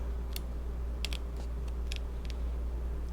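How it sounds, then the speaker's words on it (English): Paper snips trim excess paper from a handmade card with a few short, crisp snipping clicks close by, spread over a steady low background hum, no one speaking. "all I'm going to do is come in with my paper snips, and I'm going to just trim off this excess"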